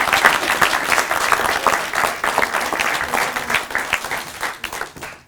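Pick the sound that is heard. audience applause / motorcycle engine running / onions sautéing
audience applause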